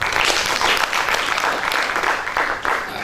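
Loud, close audience clapping for student presenters at a national science innovation competition: dense applause with slightly pulsing waves over three seconds.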